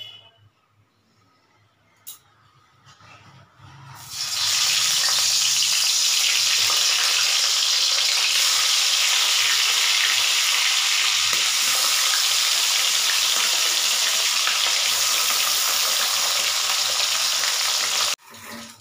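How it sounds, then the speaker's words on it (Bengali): Tangra fish fried in hot oil in a wok, a loud continuous sizzle that bursts in after a few quiet seconds of faint kitchen noise and holds steady until it cuts off near the end. "এক এক করে মাছগুলো সব ভেজে নেবো।"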